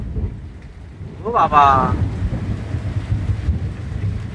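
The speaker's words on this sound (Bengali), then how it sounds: "তার মাঝে তো প্রচুর মানে অপরিমাণে বৃষ্টি" Heavy rain falls in a steady wash during a thunderstorm in the Sundarbans, with a low rumble of thunder underneath, and a brief exclaimed voice partway through.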